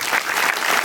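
An audience at a Navy award ceremony honoring Bob Feller gives a round of applause, continuous dense clapping from many people, even and sustained across the short moment.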